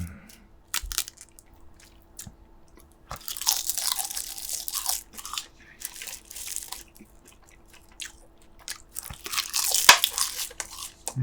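Crunchy bites and wet chewing from someone eating braised kimchi with pork back ribs, close and fairly loud, coming in irregular bursts with short quiet gaps and no talk.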